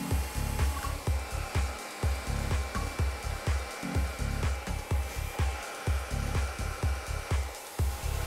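A hair dryer blows hot air onto hair wound around a round brush, a steady close whoosh that pulses rhythmically as the brush and dryer move, continuous throughout with no talking.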